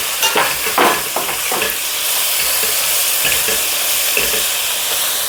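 Chopped tomato hits hot oil in a curry pan and is stirred, loud scraping strokes over a bright, hissing sizzle that settles into a steady fry.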